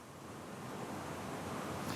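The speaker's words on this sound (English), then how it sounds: "Scott, take a look at this roaring cascade behind me." A waterfall swollen by a storm into a roaring cascade on a mountainside near Rockwell Drive, north of Harrison Hot Springs, makes a steady, dense rushing roar that fills the scene from start to finish, with no voices over it.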